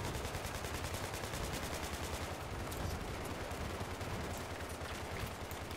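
Rapid machine gun suppression fire in the video game Battlefield 3, a steady dense stream of shots sprayed down an underground corridor, loud and continuous throughout without talk.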